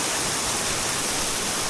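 Waterfall fed by water from Mount Meru on a river hike, heard as a close, loud, steady rushing roar of falling water with no break.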